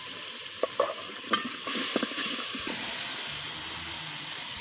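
Young bottle gourd sizzles steadily in a pan as it is stir-fried with a little water, salt, chili, coriander and turmeric powder, with a few scraping stirs near the start over the constant hiss.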